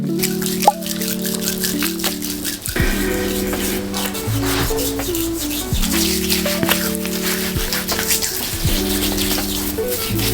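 Tap water runs steadily into a sink while someone washes their face, a continuous close splashing flow with small clinks and shifts as hands move through the stream.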